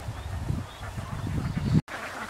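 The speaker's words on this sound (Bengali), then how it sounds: "এই যে হাঁসগুলো ফ্রি খাবার নিয়ে ব্যস্ত।" A flock of ducks feeding on paddy in a harvested field, low dense quacking and muttering chatter close by, continuous and busy, cut by a brief silence near the end.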